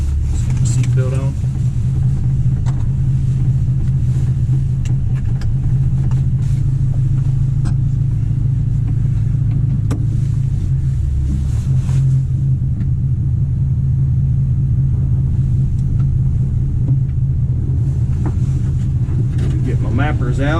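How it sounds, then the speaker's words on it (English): A 1966 Ford F250 truck engine runs while driving, a loud, steady low rumble heard from inside the cab with road and wind noise, and brief knocks and rattles scattered throughout. "truck's been warming up"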